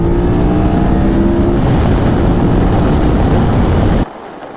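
A 2023 BMW F 900 XR motorcycle pulls away, its engine droning loud and close with rising revs through a gear change before cutting off abruptly near the end.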